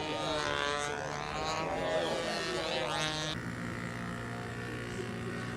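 Model airplane at a model aircraft competition flying past, its small engine whining with a rising and falling pitch as it passes, then settling into a steadier drone while people talk nearby.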